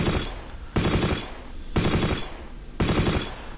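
A .30 cal machine gun in the video game Close Combat fires four sustained, roughly one-second bursts with brief pauses between them, loud and rhythmic.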